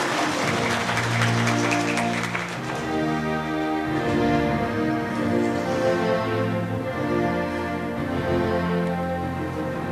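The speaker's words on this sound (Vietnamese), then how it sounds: "Quý cộng đoàn cùng nổ một tràng vỗ tay thật lớn để chúc mừng cho cha Giuse của chúng ta." A church congregation claps in a long round of applause to congratulate a priest at a newly ordained priest's celebration, with organ or keyboard music playing steadily underneath throughout.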